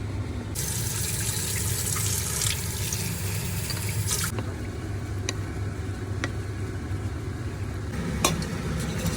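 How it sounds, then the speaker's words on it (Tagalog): Water pours and splashes steadily onto cornstarch in a bowl for a few seconds, then stops, followed by soft stirring and occasional clicks of a utensil against the bowl. "Tapos lalagyan ko siya ng tubig"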